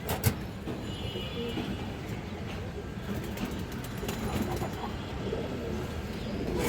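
Pigeons kept for sale, including a hen, coo in low, throaty murmurs that blend into a steady, dense rumble of background noise, with a brief sharper knock near the start and no clear talk.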